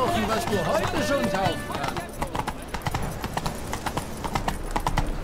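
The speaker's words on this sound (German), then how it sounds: "So, dann reiten wir erstmal dahin, Dick." Horse hooves clip-clop in a steady trotting rhythm, close and clear, with game sounds and a voice early on.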